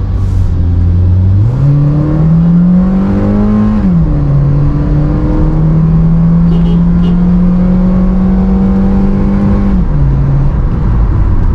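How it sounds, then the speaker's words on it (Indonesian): A 2010 Honda Jazz RS automatic engine roars steadily from inside the cabin, its pitch climbing as it revs, holding high for several seconds, then dropping; loud and continuous. "Tapi memang suara raungan mesin itu lumayan masuk ke dalam ya."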